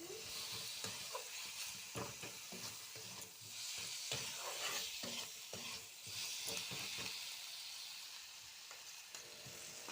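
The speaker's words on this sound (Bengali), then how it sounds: "ভালো করে কষিয়ে নেবো।" Katla fish with salt is stirred and sautéed in a pan, a soft steady sizzle broken by repeated scraping and stirring strokes, close and fairly quiet, with no voices.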